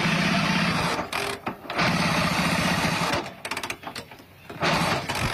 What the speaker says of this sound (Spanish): pero arranca, escucha